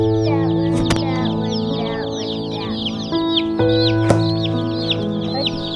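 Several Cornish cross broiler chickens cluck and peep steadily at close range, with a constant low hum and a couple of sharp knocks in the background.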